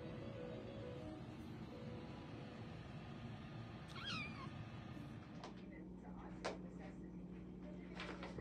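A white kitten meows in a few short calls around the middle, faint under a steady background hum, with a person talking softly nearby.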